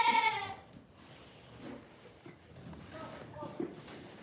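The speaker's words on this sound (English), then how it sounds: "Why are you screaming, Crumble?" A goat named Crumble screams in loud bleats right at the start, with fainter bleats and farm noise following at a goat farm.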